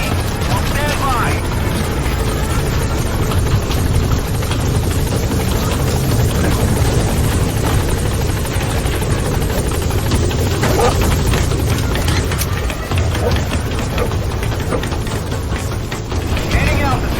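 The Pequod helicopter in Metal Gear Solid V settles onto a landing zone, its rotor whir and engine roar forming a dense, loud, continuous wash that holds steady throughout.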